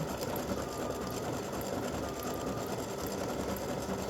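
Embroidery machine stitching a free-standing lace awareness ribbon, a steady rapid mechanical whir and needle chatter, quiet and continuous throughout with no talk.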